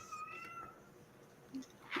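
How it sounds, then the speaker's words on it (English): A faint, high, thin meow of a young kitten sounds once, followed by brief soft chirps near the end, all quiet against a hushed background. "Sounds like a kitten."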